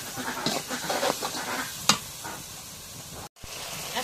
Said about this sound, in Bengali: এখন মশলাটা একটু নাড়া দিই।